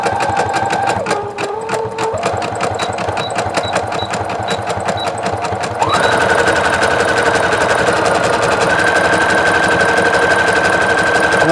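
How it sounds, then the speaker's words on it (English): A Brother CS-8150 sewing machine stitches a satin stitch with Sulky sliver thread, giving a steady, rapid mechanical whir with fast needle clatter that grows louder and busier halfway through and runs on without pause. "I'm just doing a satin stitch for you."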